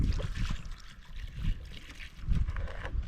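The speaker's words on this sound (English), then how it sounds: "So I'm going to be pouring some water here." Water poured from a jerrycan outdoors in an African countryside village, a close, uneven splashing and gurgling stream that rises and falls in bursts for a few seconds.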